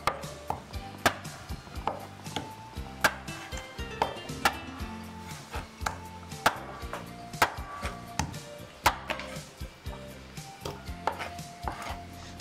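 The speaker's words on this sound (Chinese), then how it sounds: "然后再剁成大小相同的段。" A cleaver chops raw pork ribs into equal pieces on a board, sharp heavy thwacks landing at an uneven rhythm of roughly one per second, close by and alone.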